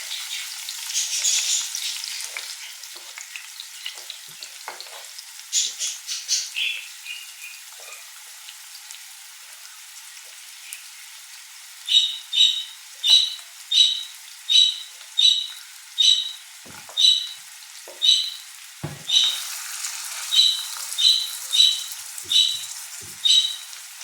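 Onion sizzles steadily as it fries in a pan, a close crackling hiss that later carries a run of regular, evenly spaced pulses, with no voices.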